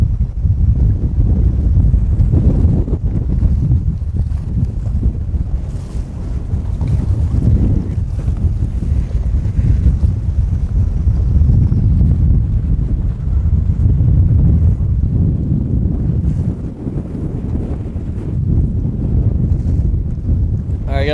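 Strong gusting wind on a lake buffets the microphone from a fishing boat, a loud continuous roar that swells and eases in waves, with faint water noise beneath.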